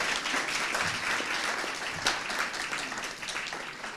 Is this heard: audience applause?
yes